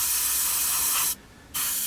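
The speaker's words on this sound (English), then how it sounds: "we'll spray the top colours on using the exact same methods" Airbrush spraying top camouflage colours onto 1/48 scale P-40N Warhawk model aircraft parts: a steady, close broadband hiss that cuts out briefly for a short pause, then resumes.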